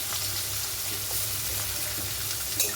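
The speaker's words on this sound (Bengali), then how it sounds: "এবারে পেঁয়াজগুলো এই তেলের মধ্যে ভাজবো" Sliced onions fry in hot oil in a pan. A steady, close sizzling hiss runs unbroken throughout, with a faint clink near the end.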